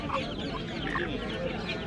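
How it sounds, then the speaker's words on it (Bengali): Khaki Campbell ducklings for sale at the Fatullah village haat in Narayanganj, Bangladesh, give soft, repeated peeping calls in a busy, noisy outdoor market. "এখানে এক ভাই কিছু হাঁসের বাচ্চা নিয়ে আসছেন"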